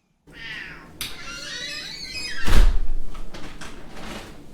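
A cat meows up close, then a door or cupboard knocks and scrapes, followed by more rustling and bumping.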